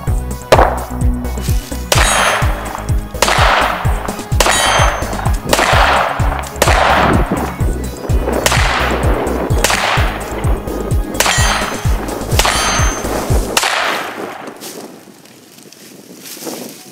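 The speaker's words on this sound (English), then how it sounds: "That steel wasn't wanting to ding a lot, was it?" Shotgun blasts from a Mossberg 500 fired at close range in steady succession, each crack followed by a short metallic ring off steel targets set against a tree, outdoors with wind noise, ending in a quieter tail.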